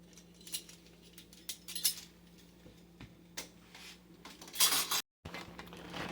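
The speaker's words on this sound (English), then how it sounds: "it makes it really easy to pull off however many I need" Metal canning lids lifted one after another off a wire hanger, making a string of light, bright metallic clinks and jingles at close range, bunched in several quick clusters.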